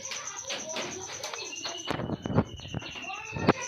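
Pigeons coo in a loft of Kaldama and Regdar-type breeding birds: soft, repeated throaty calls with scattered chirps over a steady background hum, close by and moderately loud.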